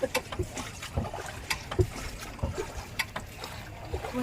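A boat moving across water at night at Baan Rak Thai, with broadband wind and water noise and irregular splashes and knocks throughout, fairly close.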